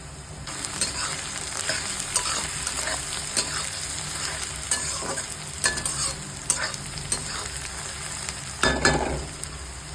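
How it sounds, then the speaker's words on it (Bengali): Onion and plenty of chopped garlic fry for chicken kosha, making a steady crackling sizzle under repeated sharp spatula taps and scrapes, with a louder clatter near the end and no voices. "পেঁয়াজটা ভাজা হয়ে গেছে"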